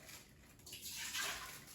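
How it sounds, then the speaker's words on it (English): Water poured from a cup into an Instant Pot's inner pot: a soft, brief splashing pour that swells over about a second and then trails off, close and fairly quiet. "I'm going to add 1 cup of water"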